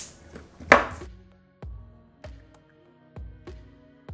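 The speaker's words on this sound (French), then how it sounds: "et je coupe les excédents" Excess cord ends on a Cellini-style cane are snipped off. A sharper first cut is followed by four evenly spaced crisp clicks, close and alone.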